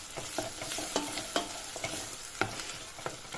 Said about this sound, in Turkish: salçamızı şöyle güzelce bir kavuralım